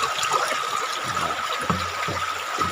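River water rushes and trickles steadily as people bathe in the river, a continuous close wash of flowing water with small splashes.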